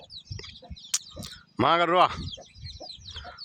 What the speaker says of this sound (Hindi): मुर्गी भी है